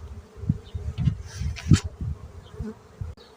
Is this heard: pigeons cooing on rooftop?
no